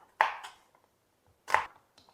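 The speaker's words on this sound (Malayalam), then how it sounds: "ബീൻസും ഏസൊരു നീളത്തിൽ കട്ട് ചെയ്തെടുക്കാം" A knife cuts green beans into lengths on a board with two crisp chopping strokes, each a sharp tap followed by a quick lighter knock, separated by a pause, close and fairly quiet.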